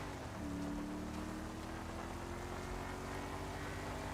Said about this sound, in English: it just rained